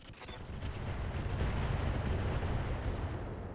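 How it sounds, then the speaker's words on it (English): Standard missile salvo fired at a Dervish mech in the video game RogueTech, a BattleTech mod: a dense, sustained rumbling barrage of launches and impacts, loud and continuous, with no talk over it. "we're going to fire on the dervish. This time, we are going to use standard missiles"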